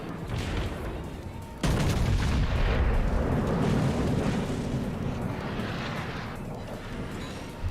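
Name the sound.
warship artillery fire in World of Warships video game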